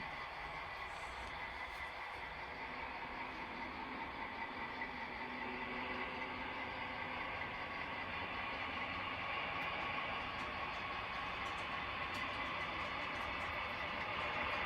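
An HO scale model locomotive runs on an Erie Lackawanna-inspired freelance layout, with a steady mechanical hum and faint rattle that builds slightly over time and no talking on top.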